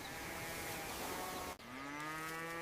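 Cattle on an ancient Egyptian farm, two long, loud, close moos with a brief break between them.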